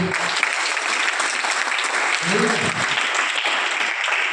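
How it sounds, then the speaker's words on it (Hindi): Loud, dense applause from a crowd fills the whole stretch, steady and unbroken, with a brief spoken voice surfacing partway through. "जोरदार ताली बच्ची"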